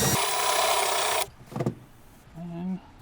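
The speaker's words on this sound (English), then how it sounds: "Let's get this drilled out." A power drill runs steadily for about a second, drilling out rivets in the air box of a C8 Corvette convertible. Brief clicks and thumps follow, then a short voice.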